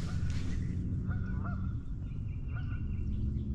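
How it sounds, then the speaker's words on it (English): A goose honks a few times at a distance on a river, faint calls over a steady low background of wind or water. "I hear a goose down there"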